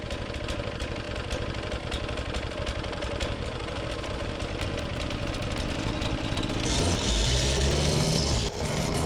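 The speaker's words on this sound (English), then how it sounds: "The wider sections can be compacted with the plate." A vibrating plate compactor works a crushed rock base on a garden plot, a steady, loud, close mechanical drone with rapid vibration that grows heavier and rougher toward the end, with no talking.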